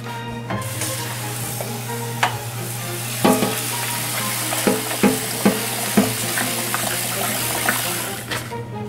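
Rice grains are swished and rinsed in water to wash out the starch, giving a steady wet rustling hiss with scattered small clicks over a low constant hum.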